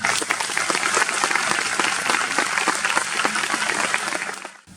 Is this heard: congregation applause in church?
yes